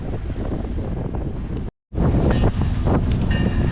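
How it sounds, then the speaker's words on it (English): Strong wind roars across the microphone aboard a sailing boat heading out past a bar toward Campbell River, loud and continuous with bumping from the hull, cut by a brief dropout. "as you can probably tell from all the bumping, we got some awesome wind out here"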